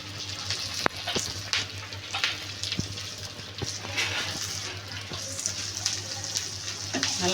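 Curry leaves sauté in a pan with a soft, continuous crackling sizzle and scattered sharp pops and utensil taps, close but fairly quiet, with a low steady hum underneath.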